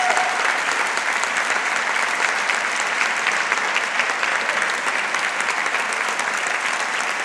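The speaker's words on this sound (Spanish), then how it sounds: "Y si ese aplauso era para Dios, dalo fuerte." Church congregation applauding loudly and steadily, a dense, continuous wash of clapping from many hands lasting throughout.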